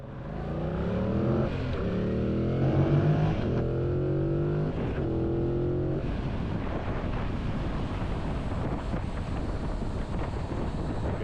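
A motorcycle rides along a road, its engine droning and rising through gear changes in the first half, then settling into a steady roar buffeted by heavy wind noise.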